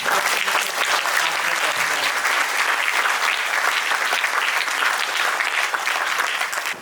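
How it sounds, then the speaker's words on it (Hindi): A church congregation applauds the bishop at a priest's ordination at a Catholic church, with thick, continuous clapping that holds steady for about seven seconds before easing slightly at the end. "हम तालियों की गड़गड़ाहट से बिशप स्वामी के प्रति"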